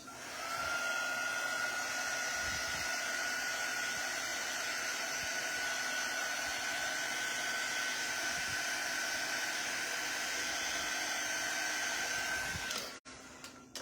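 A hair dryer blows steadily and loudly for about thirteen seconds, drying craft paint on an autumn tiered tray decoration, with a constant whine that cuts off abruptly near the end.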